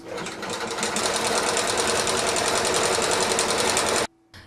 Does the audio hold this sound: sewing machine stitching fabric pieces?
yes